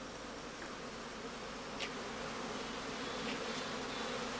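Honey bees at a straw skep hive in a heather-blossom apiary make a steady, dense buzzing hum that holds throughout, close and even, with no voices.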